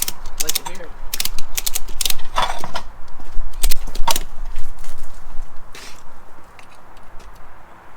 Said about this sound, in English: The small bead breaker is far superior at breaking a bead.